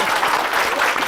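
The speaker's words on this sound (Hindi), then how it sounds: "जोरदार ताली।" Loud, dense applause from a crowd, a brief steady burst of clapping with no pauses.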